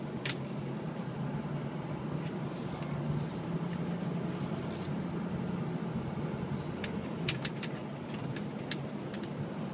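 A 2006 Ford F250 diesel 4x4 Lariat crew cab truck drives along with a steady low engine drone and a broad road rumble, moderately quiet, with a few faint ticks and clicks near the end.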